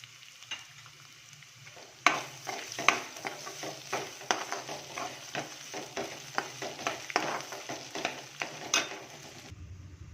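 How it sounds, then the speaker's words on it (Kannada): Garlic and ginger frying in a hot pan, a steady sizzle broken by repeated stirring scrapes and clatters that recur every second or so, close and fairly loud with no talking. "ಈಗ ಬೆಳ್ಳುಳ್ಳಿ ಹಾಕೊಂಡ್ಬಿಡ್ತೀನಿ ಶುಂಠಿ"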